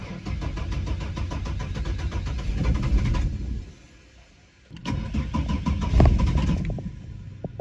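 A 1993 Ford XG Falcon police panel van cranks over in two close, loud attempts, a rapid rhythmic starter chug running about three seconds, a brief pause, then another stretch of cranking that fades.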